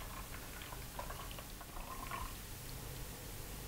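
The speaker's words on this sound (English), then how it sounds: "the milk is coming out pretty fast" Almond milk squeezed through a nut milk bag runs out quickly in a soft, continuous liquid trickle with faint splashing, quiet and close.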